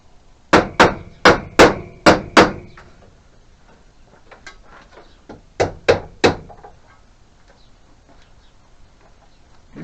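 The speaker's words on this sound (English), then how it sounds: "clamp it with a hammer" Sharp hammer taps on a clamp fitted to a Range Rover headlight: a quick run of six close, loud strikes, a pause with faint handling noise, then three more taps.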